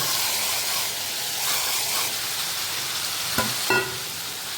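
Spices fry in a pan of hot oil with a steady close hiss and sizzle, broken near the end by a couple of sharp knocks as pieces are added or stirred.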